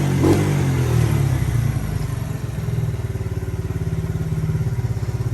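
A Kawasaki Mojave 110 quad engine that was overfilled with oil runs nearby, with a quick rev at the start and then a steady, loud, pulsing idle that throbs evenly and alone.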